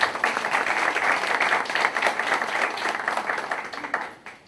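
Audience at a panel discussion gives a strong welcoming applause for an invited speaker, close, vigorous clapping sustained evenly before tapering off at the very end.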